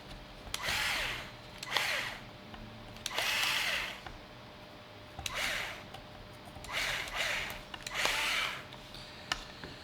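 A power driver runs in short bursts, six whirring spins spaced a second or two apart, as screws are driven into the shock tower of a Team Associated B7 RC car, close and clear with no talk.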